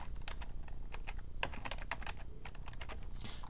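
Rapid typing on a computer keyboard, steady clusters of close keystrokes with no one talking, during Java programming work.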